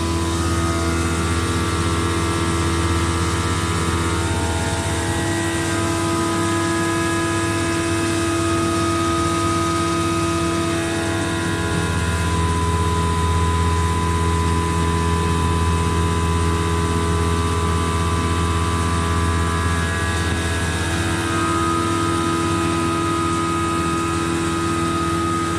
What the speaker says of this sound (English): Turn the chip auger on now